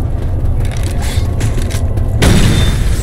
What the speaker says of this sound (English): Stop bombing us.